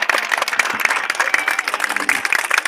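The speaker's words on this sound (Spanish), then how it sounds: "Un aplauso, por favor." A crowd at a municipal ceremony in Pacora applauds, a dense, continuous burst of clapping that is fairly loud and steady throughout.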